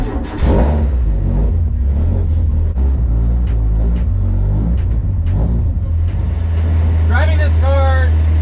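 A race car is driven on a public street, its deep engine rumble loud and constant from inside the cabin, with people talking over the drone and a brief squeak near the end.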